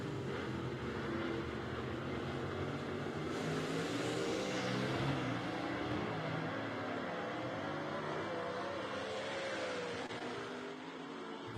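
Gasser drag race cars at Knoxville Dragway, a sustained roar of engines running down the strip at a distance, steady and loud for the whole stretch before easing off at the end.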